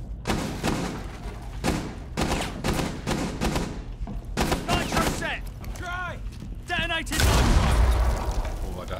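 Explosions and gunfire in the Rainbow Six Siege yacht map during a hostage round: a run of heavy thuds and blasts with scattered shots, ending in a louder burst, while players talk.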